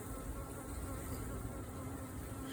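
Carniolan honey bees buzz inside an open hive during requeening, a dense, steady drone of many wings close by and filling the air without pause.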